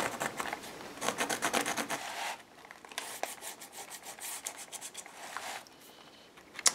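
A Stabilo pencil rubs and scratches around the roof of a model house in quick, uneven strokes, with rapid bursts of close, dry scraping broken by short pauses.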